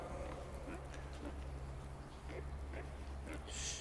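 Horse hooves canter across a riding arena on a diagonal, giving soft, muffled, irregular thuds heard at some distance over a constant low background rumble and a faint murmur.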